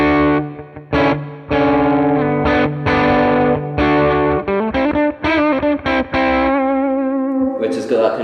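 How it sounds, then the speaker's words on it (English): An electric guitar plays through a Marshall AVT 100 amp with the clean channel cranked into a valve-like overdrive: loud, gritty chords and short riff phrases with pauses between them, ending on a brighter, noisier strum. "Which has got that kind of like classic kind of just overdriven sound."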